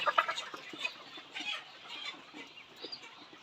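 A flock of layer chickens clucks busily and continuously close by, a dense overlapping chatter with no voices.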